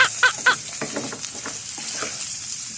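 Garlic sautés in a hot pan, giving a soft, steady sizzle. A spoon stirs it with a few clicks and scrapes near the start, close by and moderately loud, with no talking.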